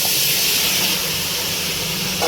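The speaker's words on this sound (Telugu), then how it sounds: "ఇప్పుడు తీసేసుకుందాం అదే ప్యాన్లో కట్ చేసుకున్న టమాటా ముక్కలు వేసి" Cut tomato pieces sizzle loudly in a hot pan for tomato pachadi, a dense, continuous close hiss of frying that holds steady throughout.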